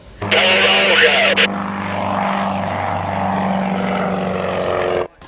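A small ex-Jordanian Air Force Pitts Special aerobatic propeller plane: a steady engine drone with a humming propeller tone runs through the whole stretch, fairly loud, while someone speaks over it.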